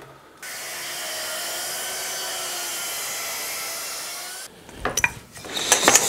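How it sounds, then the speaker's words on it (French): A plunge saw whines steadily for several seconds as it cuts reclaimed oak, then stops, followed by clattering and knocking of wood being handled. "je vais le faire à la scie, moi, plongeante"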